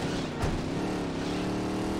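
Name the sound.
loud car engine in video game Saints Row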